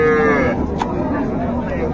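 A cow moos once, briefly and close, amid the busy din of a cattle market selling milk cows and calves, with people talking nearby.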